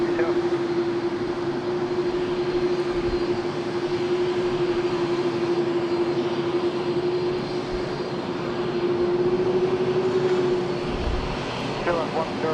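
A Qantas airliner rolls for takeoff on runway 34 Left at Sydney Airport, a steady loud engine roar with a sustained droning tone from start to finish, while voices talk over it.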